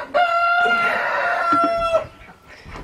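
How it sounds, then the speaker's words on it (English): A rooster crows loudly and close by in one long sustained call, with hens clucking around it on a farm. "There's a chicken back there laying an egg."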